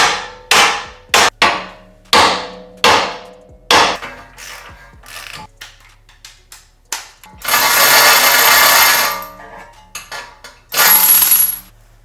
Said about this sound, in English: you gotta be careful where you're whacking, because if you hit the threading, you might mush it and mess it up